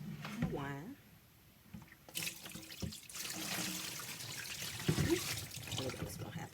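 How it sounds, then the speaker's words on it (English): Wine pours out into a sink as liquid splashes and trickles in a continuous watery rush, with a person talking over it. "So now I'm going to pour out the wine."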